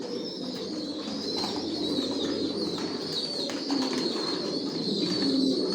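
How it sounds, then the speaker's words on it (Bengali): Several racing pigeons coo together in a loft, a dense, continuous murmur of low rolling calls with faint wing rustles and chirps, fairly near and steady throughout. "কোয়ালিটি সম্পন্ন কবুতর পালি"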